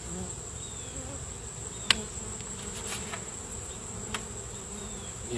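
Honey bees buzz steadily around an open nuc hive during an inspection, a constant close droning hum with a few sharp clicks and knocks from handling the frames.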